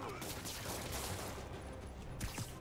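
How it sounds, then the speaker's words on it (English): Thugs fire a rapid fusillade of guns in the video game Marvel's Spider-Man, a dense burst of shots crackling continuously through the short stretch at moderate loudness amid game ambience. "Did you just shoot at me?"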